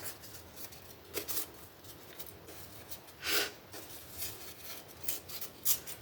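Scissors cut through paper during junk journal crafting, producing a few short crisp snips spaced out over quiet room tone, with one longer slicing cut near the middle.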